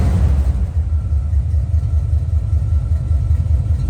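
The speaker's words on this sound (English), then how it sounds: "Give it a little gas." A 1987 Chevrolet Monte Carlo SS V8 with a mild cam, idling with a loud, lumpy low rumble that pulses steadily and close by, given a little gas.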